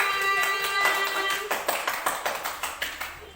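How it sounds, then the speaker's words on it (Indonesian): Children in a classroom clap for a group, starting as a soft scattered patter over a lingering tone, then settling into a series of separate, evenly spaced claps that fade toward the end. "tepuk tangan buat kelompoknya Mas Rizky"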